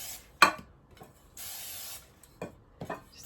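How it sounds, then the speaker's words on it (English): Cooking oil spray hisses in a steady burst of about half a second while greasing cake pans for carrot cake, bracketed by a few sharp knocks and clatters of the can and pans, close and fairly quiet with no talk. "I'm going to grease these pans just a little bit. I use the spray"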